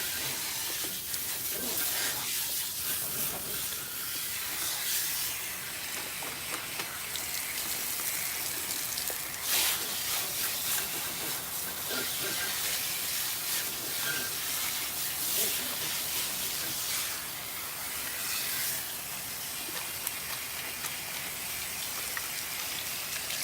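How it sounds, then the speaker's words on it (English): Water from a salon sprayer rinsing dry relaxed hair, a continuous close hiss with splashing patter that holds steady, occasional faint voices underneath. "we're going to go ahead and rinse her out"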